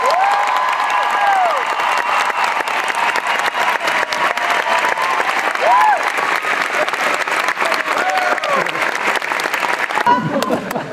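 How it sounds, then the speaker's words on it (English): Loud, sustained audience applause with cheering and whistles for a retiring teacher at a school graduation, a dense crowd roar of clapping that carries on throughout with voices calling out over it. "Can we give Ms. Dewey a round of applause,"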